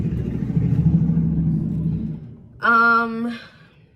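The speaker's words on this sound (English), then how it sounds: "loud truck" A loud truck passes close by, its heavy low rumble dominating the first two and a half seconds before dropping away, followed by a short, bright tonal burst.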